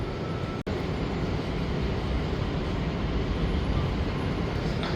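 Riding a Qatar metro train, a loud, steady rumble and rush of the moving carriage that fills the whole clip, broken only by a brief sharp dropout early on.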